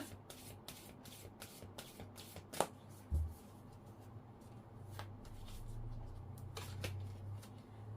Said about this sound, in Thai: ขอเพิ่มจากไพ่โรแมนต์แองเจิลนะคะ